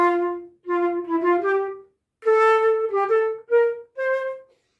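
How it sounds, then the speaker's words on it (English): A flute plays a short phrase of clear, breathy notes with audible key clicks articulating the attacks, close and fairly loud, in two groups separated by a brief pause, with no talking. "you have to play key clicks with sound"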